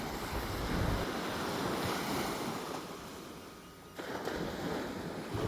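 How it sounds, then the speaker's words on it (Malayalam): Gentle sea waves wash onto a Kerala shore on a calm day of cast-net fishing, a low continuous surf rumble mixed with wind buffeting the microphone, with a slight swell and dip in loudness. "ഇന്ന് കടൽ കുറച്ച് ശാന്തമായിട്ട് കിടക്കും കേട്ടോ കണ്ട അത്ര വലിയ തിരയൊന്നുമില്ല"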